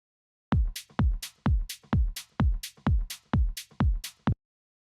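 Sparse drum pattern of deep kick thumps with clicky attacks, about nine even hits with muted toms, alone and fairly quiet.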